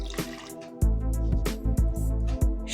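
Water poured from a measuring cup into 250 grams of flour for wedding loaf dough, with a few close liquid splashes and drips in short bursts over a couple of seconds, no talking.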